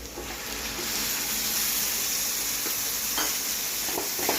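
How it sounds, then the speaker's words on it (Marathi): Tomato puree and onion are stir-fried in oil, giving a steady hiss of sizzling with soft scraping stir strokes, close and even throughout. "आणि आता हे छान असं तेल सुटेपर्यंत आपण परतून घ्यायचं"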